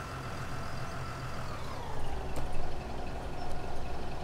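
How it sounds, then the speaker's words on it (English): Truck engine in Farming Simulator 2017, a steady low rumble with the whine partly removed, running continuously at moderate level with slight swells in loudness. "I took some of the sound out of the truck."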